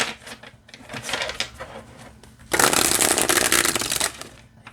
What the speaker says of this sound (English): The cards feel great. Let's see how they shuffle.